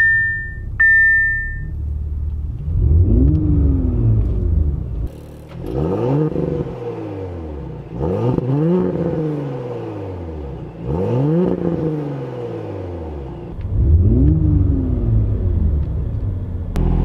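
A 2018 Audi S4 Premium Plus starts after a short electronic chime, then the engine is blipped in several loud, close revs that climb and fall back to idle, each one spaced a couple of seconds apart.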